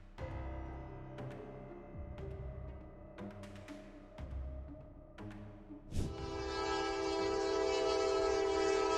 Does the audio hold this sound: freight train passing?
yes